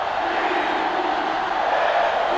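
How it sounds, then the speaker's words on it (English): A sellout stadium crowd in an NCAA Football 2005 video game rivalry match, Weber State, roars in a steady, loud, dense wash of cheering and shouting that holds without a break. "The sellout crowd is really making a difference now as these guys can't even call the play."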